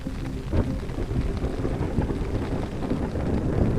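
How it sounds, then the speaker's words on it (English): Thunder rumbles loudly through heavy rain at a night campsite on a cliff near Vagamon, Kerala, with constant low roaring and buffeting wind. "It's just thunder, lightning, rain, and fireflies tonight."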